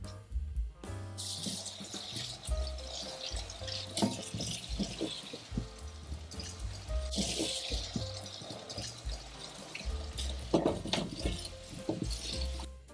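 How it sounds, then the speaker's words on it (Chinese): Thick green beans are washed under running water in a sink, with a steady tap stream, splashing and small clattering knocks throughout at close range. "那我们先清洗一下这个四季豆"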